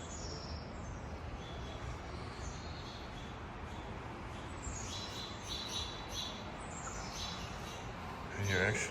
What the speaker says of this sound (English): You can hear their voices of the blue jay, the finch.